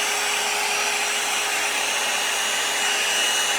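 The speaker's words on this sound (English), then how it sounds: "It's like blowing it dry" A hair dryer blows steadily and loudly throughout, a constant whooshing roar with a faint motor whine and no talking.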